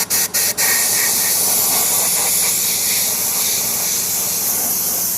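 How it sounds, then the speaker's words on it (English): Compressed air blasts onto a Nissan Sentra wheel before clear coat, drying off water and surface prep spray: a couple of short bursts, then one loud, steady, close hiss held throughout. "We'll spray a little air on it before I shoot any clear coat."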